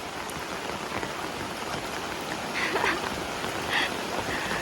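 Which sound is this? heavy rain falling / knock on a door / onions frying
heavy rain falling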